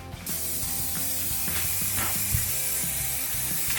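Base coat paint hisses steadily from a spray can onto a pickup truck roof, one continuous close spray with faint rattling and mechanical clicks under it.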